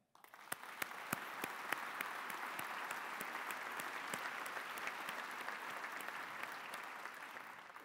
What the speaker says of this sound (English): Please give a round of applause to our Mondavi Center volunteers and staff.